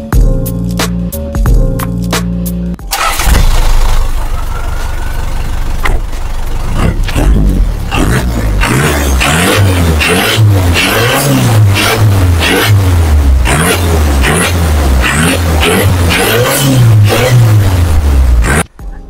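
A fully restored Toyota BJ60 Land Cruiser diesel starts after a few seconds of quiet, then revs loudly and repeatedly close by, with rising and falling engine surges throughout.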